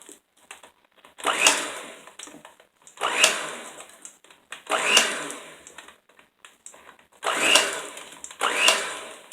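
A handheld electric mixer beats chocolate peanut butter cookie dough in five loud bursts of whirring, each lasting about a second, with short quiet gaps between them.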